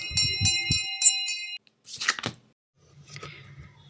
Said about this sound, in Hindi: बोर्डिंग में खाने की घंटी बजी।